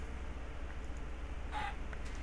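A Minecraft chicken gives a single short cluck near the middle, faint over a steady low background hum.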